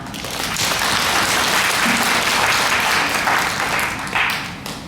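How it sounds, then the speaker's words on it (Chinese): An audience in a hospital lecture hall applauds loudly and steadily. Dense, sustained clapping fills the room for several seconds, then tapers slightly toward the end. "咱們再一次表示感謝，給鼓掌。"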